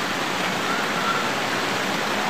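Waterfall in Yasin Valley, Gilgit-Baltistan, giving a steady, dense roar of falling water that stays close and loud without a break throughout.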